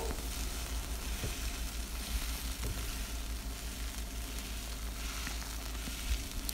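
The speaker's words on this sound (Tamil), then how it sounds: "நம்ம ஆயிலில் போட்டு ஃப்ரை பண்ணும்போது படப்படன்னு சவுண்டு வரும்" Guava leaves crackle and sizzle in hot oil, a dense continuous hiss with scattered pops and occasional stirring scrapes, steady and close throughout.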